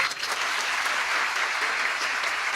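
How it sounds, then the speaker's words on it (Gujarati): An audience at a motivational talk applauding parents of daughters, with dense, steady clapping from many hands sustained at even loudness throughout. "આ મા બાપને એક વખત તાળીઓથી વધાવો."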